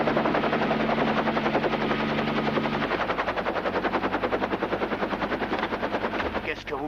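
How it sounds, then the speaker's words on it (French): A helicopter's rotor thumps in a rapid, steady chop, loud and close, with a low engine drone underneath that shifts partway through. "C'est un hélicoptère que vous recherchez, sacré nom de Dieu,"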